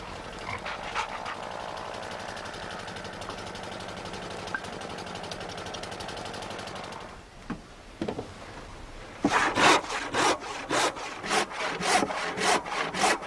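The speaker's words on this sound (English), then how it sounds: "cuts out the centreboard casing" A handsaw cuts out the wooden centreboard casing for a Shannon One Design boat, a steady rhythmic rasp of strokes that stops midway, then resumes as louder, faster, distinct back-and-forth strokes; no one speaks.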